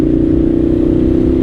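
A 1998 Suzuki TL1000R motorcycle engine drones loud and steady close by, holding a constant throbbing note while riding at speed with no voices over it.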